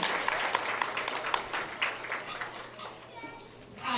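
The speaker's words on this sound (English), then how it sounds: "let's give all the seniors a round of applause here" An audience at a county fair pig show applauds the senior exhibitors with a dense burst of clapping that gradually thins and fades, while voices chatter and children talk in the background.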